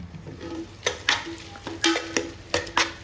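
Onions and tomatoes are stirred in a hot pan for crab curry, a soft sizzle under a series of sharp spoon scrapes and clicks against the pan, roughly a dozen strokes in quick irregular rhythm.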